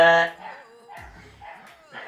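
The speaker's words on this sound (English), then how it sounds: "Thank you to the dogs next door." Dogs next door barking in short yips and bow-wows that come and go over about two seconds, heard in the background behind people talking close by.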